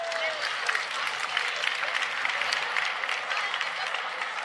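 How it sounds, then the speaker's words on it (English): Audience applause at a self-development expo talk, a dense sustained wash of clapping from a large crowd, steady and fairly loud throughout, with faint voices mixed underneath. "Give your partner a round of applause."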